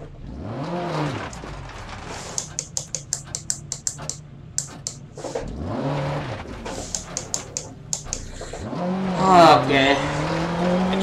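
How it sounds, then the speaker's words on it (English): A rally car spins out in Dirt Rally, engine revving and dipping in sweeping arcs, with a tyre skid squealing near the end, while rapid keyboard clicks tap along in the foreground and a voice speaks briefly. "Oh no! I spun."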